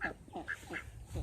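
A duck quacks three or four times in quick succession, fairly close and moderately loud, over a low background rumble outdoors during in-ground planting work.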